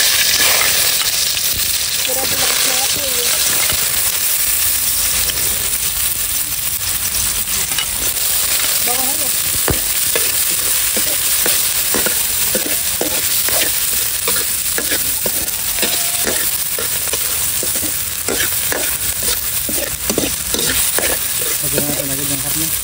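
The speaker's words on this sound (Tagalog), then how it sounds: "Kami po ngayon ni Balay magigisa na po ng pampalaman po dun sa pusit. Lalagay na po natin yung bawang at sibuyas." Garlic and onion sauté in oil over a wood fire as filling for stuffed squid, making a loud, dense, continuous sizzle with a steady crackle and occasional stirring scrapes, without speech.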